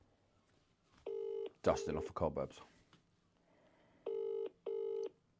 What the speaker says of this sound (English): Just literally picking up the phone, making some calls.